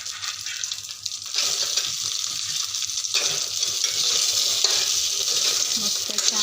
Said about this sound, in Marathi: तर बघू शकता असं छान मस्त सर्व नाश्ता आपण परतून घेणार आहोत